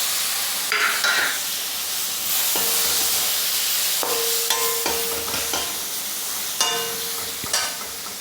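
Ginger frying in a pan of roasted spices for vegetable dum biryani, a bright continuous sizzle close up, punctuated by scattered clinks and scrapes of a utensil stirring against the pan.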